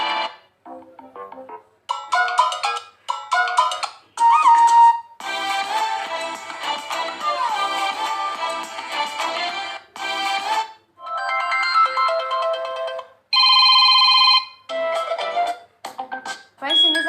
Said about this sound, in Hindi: मैं आपको सारे दिखा रही हूँ लावा के फ़ोन में कैसे कैसे रिंगटोन